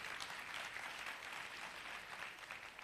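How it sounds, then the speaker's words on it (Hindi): An audience at a motivational talk on the direct selling industry breaks into loud, dense applause, with sustained clapping from a large crowd throughout. "और एक बार जोरदार तालियां डायरेक्ट सेलिंग इंडस्ट्री के लिए।"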